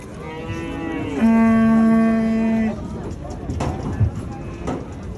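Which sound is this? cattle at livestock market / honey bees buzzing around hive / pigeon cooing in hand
cattle at livestock market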